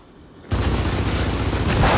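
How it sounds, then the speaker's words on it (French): Gunfire in the video game Gears of War 4 starts suddenly after a quiet moment and continues as a dense, loud, sustained burst of rapid shots. "Moi je vais bousiller toutes mes munitions, mais c'est pas grave."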